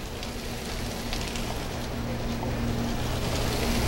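Chopped onions sautéing in a pan for a steak frites sauce, giving a steady, close, fairly loud sizzling hiss that holds without pause.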